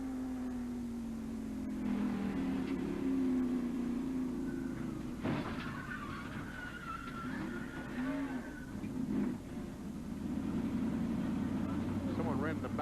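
A 1990 NASCAR stock car engine heard from inside the car at the AC Spark Plug 500, a steady droning roar with shifting pitch, overlaid by broadcast commentary voices throughout.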